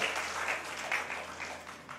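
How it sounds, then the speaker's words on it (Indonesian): A church congregation claps briefly during a sermon, a faint, somewhat distant patter of many hands that swells and dips over two seconds. "Ya, tepuk tangan buat kita semua orang tua."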